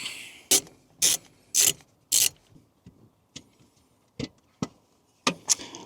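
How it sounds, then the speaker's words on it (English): A hand ratchet works on a 6mm hex bolt on a Transit Custom van seat, giving four sharp clicking bursts in a steady rhythm, then scattered quieter clicks and knocks, close up with no talking. "It does have a bolt in it, which I have to remove, a hex bolt."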